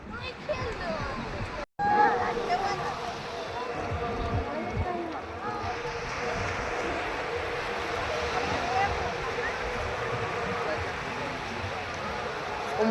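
Strong sea waves crash and roll in a broad, steady wash on a windy shore, with wind buffeting the microphone and people talking over it after a brief cut.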